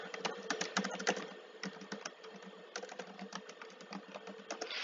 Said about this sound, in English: You can type in teardrop.